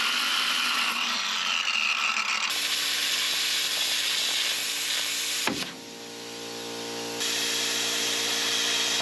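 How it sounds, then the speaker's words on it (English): A ratchet or power tool working loose U-bolts on a Ford cabover truck: steady whirring and clicking, a sharp knock midway, then a lower dip before the mechanical drone resumes, loud and close without speech. "I'm going to try to undo the rest of these U-bolts."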